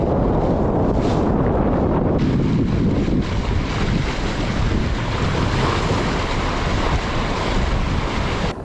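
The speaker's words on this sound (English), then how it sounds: "You can start hearing the wind blowing as I'm leaving the marina." Strong wind blows over open, whitecapped water as a new Ranger Tug boat leaves the marina, a loud steady roar with heavy microphone buffeting and wave wash throughout, no voices.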